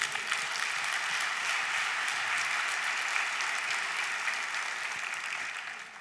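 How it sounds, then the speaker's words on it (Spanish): A church congregation applauds in a sustained wash of clapping that holds evenly for several seconds, then begins to thin toward the end. "Dale un aplauso al Señor."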